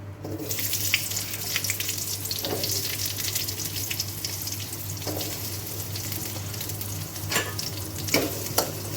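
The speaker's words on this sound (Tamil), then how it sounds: "வெங்காயம் கொஞ்சம் நல்லா வதங்கிடட்டும்." Onions fry in a pan for coconut chutney, producing a steady close sizzle with occasional stirring scrapes throughout, no voices present.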